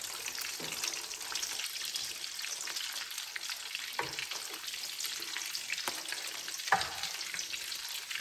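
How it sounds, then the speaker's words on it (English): Food sizzles and crackles steadily as it fries in hot oil until golden brown, a continuous close hiss with occasional sharper pops and no talking. "And we're going to fry them up, like so."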